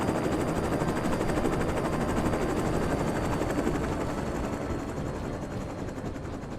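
Helicopter in the ArmA military video game, a loud steady rotor thump with dense engine roar filling every moment, continuous and close throughout.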